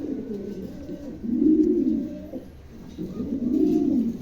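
A pair of adult Dragon pigeons coo nearby in two low, rounded swells separated by a short pause, with faint background noise between the calls.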